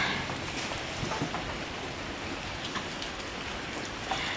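Steady rain falls on a surface, a constant soft hiss with faint patters and drips, no voices, moderately quiet throughout.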